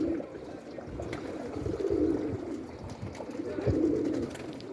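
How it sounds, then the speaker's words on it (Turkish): A hungry, thirsty Arap dolapçı pigeon coos softly in a few low, rolling phrases close by while it feeds on grain. "Bak görüyorsunuz mu kuşu?"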